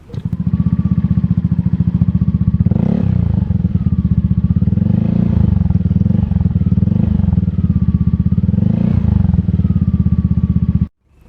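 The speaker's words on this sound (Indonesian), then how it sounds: "itu suara knalpotnya itu bisa diceritakan" A Yamaha Aerox 155 scooter with an aftermarket Arrow exhaust idles with a loud, rapid burble, revving up several times before cutting off abruptly at the end.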